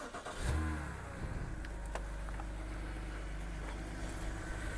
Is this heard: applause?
no